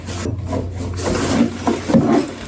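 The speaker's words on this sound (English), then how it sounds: "There's something rattling. It sounds like metal." Small metal parts, including a tremolo arm and Allen keys, rattle and scrape around inside a Fender Player Stratocaster box, shifting in irregular bursts, close by.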